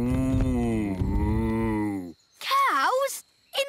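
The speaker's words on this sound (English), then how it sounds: "The cows can graze in this meadow." Cartoon cows in a meadow give a few drawn-out, wavering moos, loud and close, after a deep sustained lowing at the start, with short gaps between calls.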